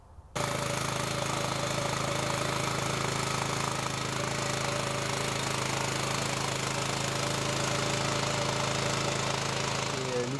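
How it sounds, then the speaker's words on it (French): A motorized farm tiller with a rotary hiller attachment runs continuously at close range, a loud, steady engine clatter with rough mechanical vibration throughout. "vous l'avez vu travailler tantôt, il est sur le rotoculteur buteur"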